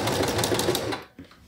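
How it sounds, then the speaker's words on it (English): A sewing machine runs a quick back stitch to finish a seam on a bachelorette party veil, producing a rapid, steady mechanical chatter that stops short near the end, followed by a brief soft clunk. "So I've reached the end and I'm gonna finish with a back stitch."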